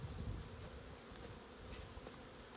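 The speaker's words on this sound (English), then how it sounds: "That's our swarm that we caught." A caught honey bee swarm hums inside a freshly opened nuc box, a dense, continuous close buzz with small swells in loudness and no voices.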